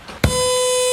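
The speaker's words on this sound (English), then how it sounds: "Should I press the buzzer?" A buzzer is pressed in the Big Brother UK 2012 house: a quick thump, then a loud, steady electronic buzz that holds without a break to the end.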